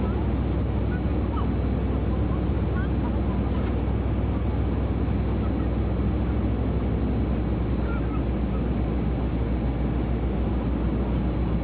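A Southwest Airlines airliner on approach to the runway in the X-Plane 11 flight simulator gives off a steady, dense engine roar and hum, loud and constant throughout with no talk over it.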